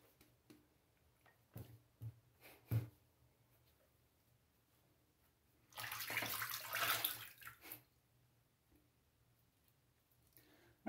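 Water is added to a shaving soap lather, a short faint gush and splash close by after a few scattered light taps and clicks in an otherwise quiet space.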